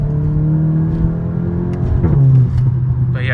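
A Volkswagen Mk8 GTI engine and exhaust hum steadily at low revs, then shift pitch with a brief downshift blip before settling back, loud and close, no talking.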